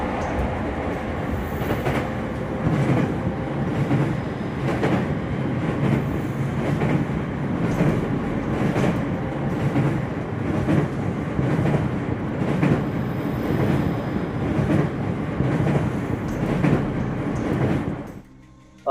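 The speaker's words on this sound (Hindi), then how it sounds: "ट्रेन आ रही है भैया वापस।" A train rumbles past nearby, loud and sustained, with rhythmic clickety-clack of wheels over rail joints repeating for most of the pass before the noise drops away at the end.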